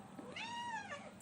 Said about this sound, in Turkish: Evet işte o kedi.